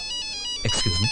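A mobile phone ringtone from a Telugu comedy film scene plays a bright, repeating electronic melody. A voice begins talking over it partway through.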